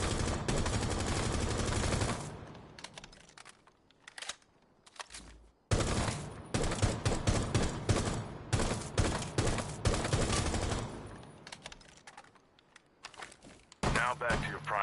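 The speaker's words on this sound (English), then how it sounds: "Try your secondary weapon on this target." Secondary weapon gunfire in Rainbow Six Siege, with sharp shots in bursts and short pauses between them, loud and close on a practice target, plus a few quieter gaps.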